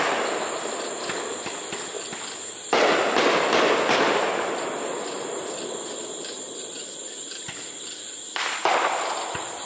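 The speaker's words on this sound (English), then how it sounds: "Firework battle." Fireworks go off at a distance, with a couple of sharp bursts trailing into crackling, over steady background noise.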